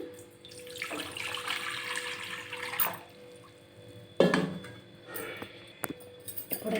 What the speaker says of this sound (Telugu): ఇవి ఒక బౌల్ అయితే తీసుకొని ఇందులో కొద్దిగా వాటర్ అయితే వేస్తున్నా అండి